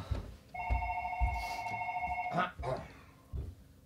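A telephone rings on a stage, an electronic warble of two bursts over about two seconds, heard under and between lines from performers talking.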